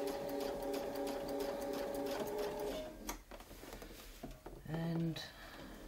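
A sewing machine stitching a quilting wreath design with a Westalee ruler hums steadily at close range, then stops briefly before a short burst of stitching resumes; a voice speaks softly over it.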